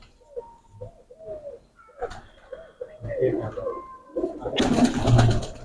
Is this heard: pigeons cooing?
yes